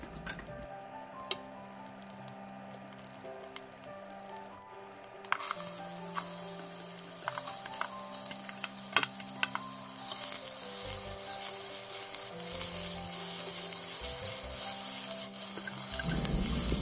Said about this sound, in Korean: 올리브유에 마늘을 볶다 양파를 볶아요.